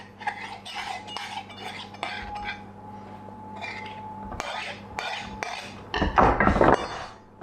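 The back of a knife trims excess sweet pastry from a fluted tart tin for a peach melba, making close, repeated metallic taps and scrapes with light clinks and a louder burst of scraping near the end.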